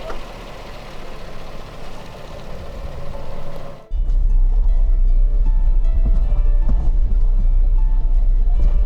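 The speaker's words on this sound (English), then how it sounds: "it's a surreal feeling to see the Land Cruiser driving on this trail" A Toyota Land Cruiser rolls along an off-road trail, its engine a steady low drone that grows louder and closer partway through, with no talking.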